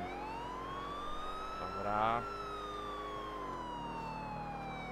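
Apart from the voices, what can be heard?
police car sirens in video game Grand Theft Auto IV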